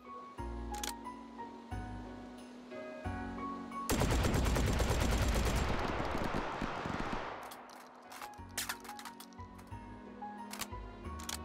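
A Scalpel LE shotgun in a VR game fires a high explosive round, a sharp blast with a roaring burst lasting a few seconds, set between quieter mechanical clicks and clacks of handling and reloading.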